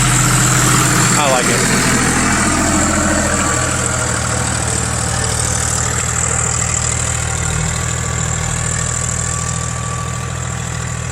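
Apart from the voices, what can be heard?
tractor engine pulling a moldboard plow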